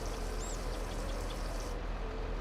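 Water pours steadily while a water trailer is topped off in Farming Simulator 22, a continuous rushing stream that stays loud and even from start to end.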